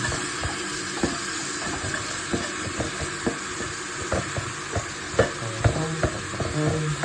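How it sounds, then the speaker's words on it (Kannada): Tomatoes frying in a pan while being stirred, a soft steady sizzle with scraping clinks of a spoon against the pan scattered throughout, close and fairly quiet with no talking. "ಟೊಮೊಟೊನ ಚೆನ್ನಾಗಿ ಫ್ರೈ ಮಾಡಬೇಕು."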